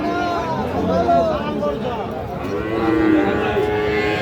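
A Friesian bull calf lets out drawn-out moos twice over a steady murmur of voices and livestock noise nearby at a cattle market in Raniganj.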